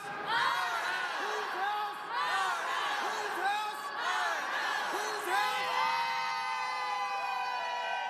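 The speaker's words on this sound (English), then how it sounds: "Representatives Justin Jones and Justin Pearson firing up a crowd of supporters" A crowd of supporters chants and cheers in rhythmic call-and-response at a Tennessee legislative rally, with loud repeated vocal whoops and shouts, building into a sustained roar.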